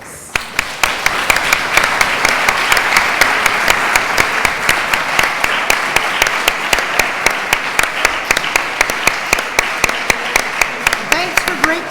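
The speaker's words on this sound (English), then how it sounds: "please join me in a round of applause" Audience applause after a lecture on the politics of global warming in the United States, steady dense clapping from a full room lasting throughout, with sharp individual claps standing out near the listener.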